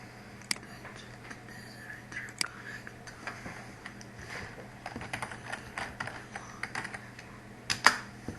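Scattered clicks and taps of typing on a computer keyboard while setting up a Steam account, soft and close with irregular bursts and a sharper click near the end, over a low steady hum.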